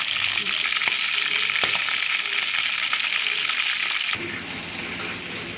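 Prawns frying in a pan, giving a steady loud sizzling hiss that drops to a quieter, softer crackle for the final second or so.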